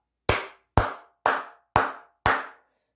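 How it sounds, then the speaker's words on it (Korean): Five sharp, evenly spaced hand claps ring out one after another, crisp and close, each with a short decaying tail and silence between, as a gesture of thanks to Intel. "박수 한번 치고 가도록"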